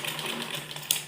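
A sewing machine runs briefly while stitching a folded neck strip on a baby frock, a fast buzzing whir with a small click near the end and no talk.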